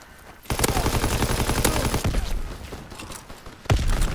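MG42 machine gun fire in Call of Duty: WWII on the Winter Carentan map: a loud, sustained automatic burst close up, pausing briefly before another short burst at the end.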